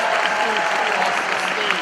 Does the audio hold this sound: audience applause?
yes